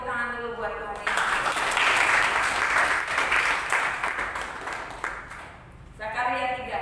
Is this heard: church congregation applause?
yes